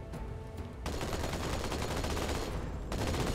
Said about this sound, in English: Shooting at something.